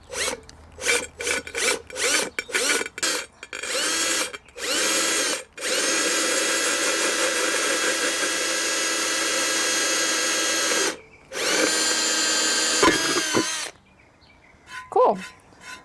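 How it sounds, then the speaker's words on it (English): A power drill fitted with a bit for ceramics and tile bores a hole in a ceramic Talavera pot: several short stop-start bursts, then a long steady whine broken by one pause, with brief voices near the end. "I'm going to start by drilling a hole"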